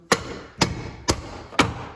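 Four evenly spaced metallic hammer blows on the stripped body shell of a BMW E46 ring out sharply, each strike leaving a brief clanging resonance over faint background noise.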